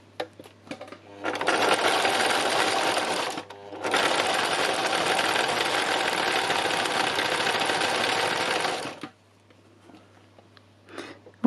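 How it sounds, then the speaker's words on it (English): A sewing machine stitches free-machine zigzag embroidery, its loud, steady whir running for about seven seconds with one brief pause early on, then stopping to near quiet. "Or at least I am when I've turned it onto a zigzag."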